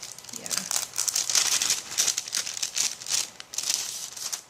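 A plastic bag of stickers crinkled and pulled open, bursts of sharp rustling and crackling in quick irregular waves, close by, with a voice at moments.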